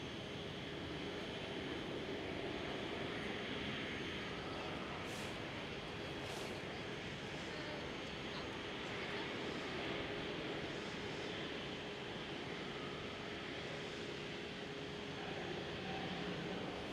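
A Swiss airliner takes off at Amsterdam Schiphol with a steady, loud jet roar that holds at an even level for the whole stretch, with no voices.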